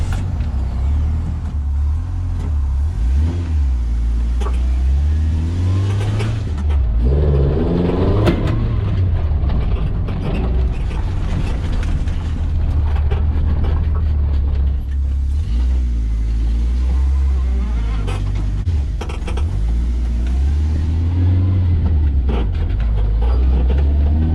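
An Apex Reeper 4 street-legal four-wheel-drive off-road utility vehicle drives along, its engine droning loudly and steadily with rises and falls in revs, close up and without talk.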